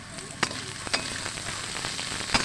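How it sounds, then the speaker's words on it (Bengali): Chopped onions and green chillies fry with peanuts in a pan while making spicy semolina, a soft steady sizzle with a few sharp clinks of a spatula against the pan at moderate volume. "পেঁয়াজ আর লঙ্কা কুচিগুলোকে দিয়ে এবার ভালো করে আবারও একটু ভেজে নেব।"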